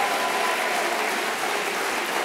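A hall full of supporters at a Marine Le Pen public meeting in Aigues-Mortes claps continuously, a dense, even wash of applause with no voices breaking through.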